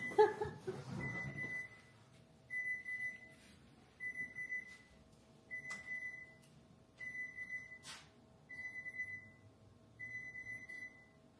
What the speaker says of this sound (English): That's the oven.